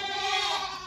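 A goat bleats once on a farm, a loud, close, wavering nasal cry lasting under a second with no talk over it.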